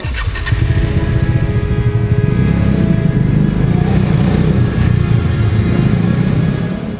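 A motorcycle engine runs steadily and loud close by as a ride sets off at a motorcycle training school, a continuous throbbing rumble with no voices.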